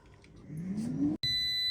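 A low whirring hum from an air fryer rises, cuts off briefly, then a single sustained electronic beep rings out clearly.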